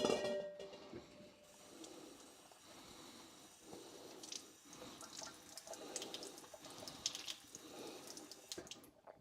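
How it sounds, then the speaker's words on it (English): Water runs from a tap in a steady, close-up stream, with wet squishing and splashing as food is rinsed under it. "So I'm just going to run these under water, make a lovely bit of noise"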